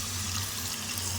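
Tamarind water pours into a cooking pan for a fenugreek curry, a brief continuous splashing trickle heard alone.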